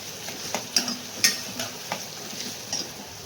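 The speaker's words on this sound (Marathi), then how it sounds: "मी कांदा फ्राय करायला घातलेला आहे." Chopped onion fries in a pan with a steady soft sizzle, while a spoon stirs it in scattered scraping clinks close by.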